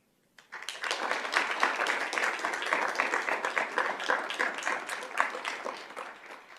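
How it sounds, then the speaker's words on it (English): Sustained round of clapping from a board meeting audience honoring Sunrise Mountain High School teachers, steady and dense crowd applause after a brief silent start, continuing throughout with no talk. "We'd like to ask each one of them to stand so that we can give them a round of applause."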